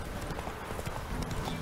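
Horse hooves clatter in a mounted combat scene from the video game The Witcher 3, a quick run of clip-clop beats under muffled background game noise.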